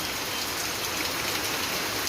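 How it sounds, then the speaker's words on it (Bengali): Heavy rain pours down outside near a lychee tree after a hot day, a dense, steady broadband hiss that stays loud and even throughout. "সারাদিন রোদ ও গরম যাওয়ার পর প্রশান্তির এক বৃষ্টি অনেকক্ষণ ধরে হচ্ছে"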